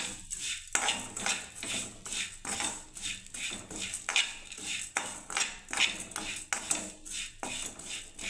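Vermicelli stirred and fried in a pan for Bengali semai payesh: steady rhythmic metallic scraping and clinking of a spoon against the pan, close and moderately loud, with a faint frying hiss beneath.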